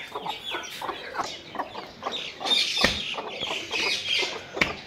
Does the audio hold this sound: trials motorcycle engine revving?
no